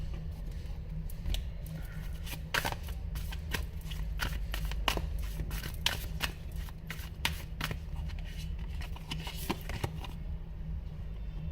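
Tarot cards shuffled by hand in quick riffling bursts and sharp snaps, dozens of crisp card flicks and slaps close up over a low steady hum, with no talking.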